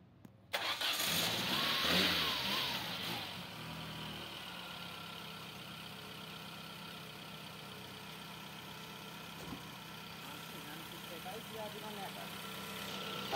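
Peugeot Pars 2000cc car, a 2003 model with an X9 engine and about 550,000 km covered, starting with a loud crank and catch, briefly revving, then settling into a steady, smooth idle.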